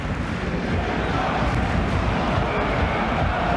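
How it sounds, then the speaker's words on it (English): A packed stadium crowd at a Champions Cup rugby union match between Bordeaux-Begles and Exeter Chiefs roars in a loud, continuous wall of excited noise that fills the whole stretch. "Crowd quite rightly getting excited."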